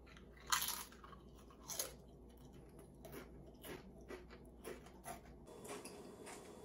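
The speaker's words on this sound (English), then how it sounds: "I'm just gonna chew it and then go from there." Crunching bites of a Paqui spicy tortilla chip, sharp crisp crackles up close in a quiet room, with irregular chewing crunches following the first loud bites.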